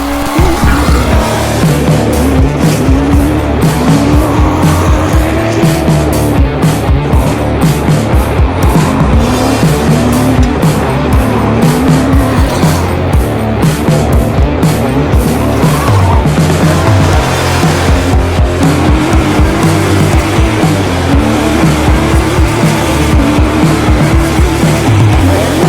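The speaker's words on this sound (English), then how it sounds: "So these Monster Manx cars are street legal," Monster Manx street-legal off-road cars race hard on dirt, engines revving loudly and continuously with repeated pitch swings as they accelerate and shift, tires skidding, a dense, close, unbroken roar.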